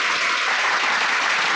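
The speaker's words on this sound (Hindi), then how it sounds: "बजाओ ताली।" A crowd claps loudly and densely at a political speech, a continuous wash of hands lasting just over a second with no voices over it.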